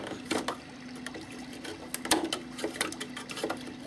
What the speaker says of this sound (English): we're going to have to get in there with a knife, but it's balsa, so it'll trim off real easy